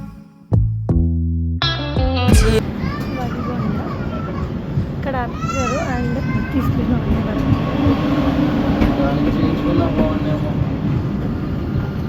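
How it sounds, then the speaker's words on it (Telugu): A passenger train from Shirdi to Kakinada rumbles loudly and continuously along the rails after a few short horn-like tones at the start, the steady roar filling the whole stretch. "ప్రతి చిన్న చిన్న స్టేషన్స్లో కూడా ఆగుతూ వెళ్తుంది అనమాట ట్రైన్"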